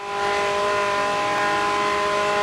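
Lexus LC500 V8 supercar engine in Project Gotham Racing 3 holds a loud, steady high drone with tonal harmonics, swelling in right at the start and sustained without a break.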